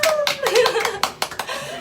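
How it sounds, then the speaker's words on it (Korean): A few people clapping hands in a hair salon after a hair dyeing session, with a handful of sharp, close claps and some laughter and voices over them. "박수!"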